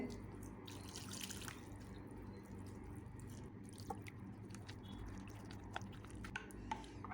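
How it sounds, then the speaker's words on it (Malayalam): Water poured a little at a time into noodle dosa batter while it is stirred, giving close, wet squishing and dripping sounds with scattered small splashes and clicks over a steady background. "കുറേശ്ശെ വെള്ളം ഒഴിച്ചിട്ട് മിക്സ് ചെയ്ത് കൊടുക്കുന്നുണ്ട്"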